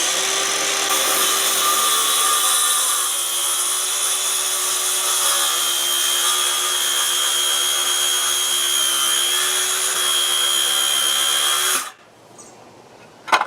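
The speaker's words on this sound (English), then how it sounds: "pull the trigger, and then make a plunge cut" A power saw runs steadily at a loud, even whine while plunge-cutting into a deck board during a deck board replacement, then cuts out abruptly near the end, leaving a quieter tail.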